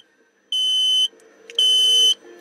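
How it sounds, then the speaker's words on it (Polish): Two long electronic beeps from a 4-channel LCD thermostat's low-temperature alarm in heating mode sound, each about half a second, separated by a brief pause, loud and close in an otherwise quiet room. "zostaniemy o tym poinformowani sygnałem dźwiękowym"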